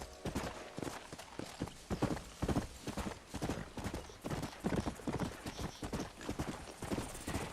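A donkey's hooves clip-clop at an unhurried walk in the Red Dead Redemption video game, giving a close, regular series of distinct knocks that carry on throughout with little else around them.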